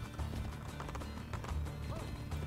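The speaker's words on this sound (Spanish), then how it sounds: "los caballos aquí no sé por qué son tan" Rhythmic clip-clop of horse hooves at a slow, steady walking pace in Assassin's Creed: Brotherhood, fairly quiet and close, with no talking.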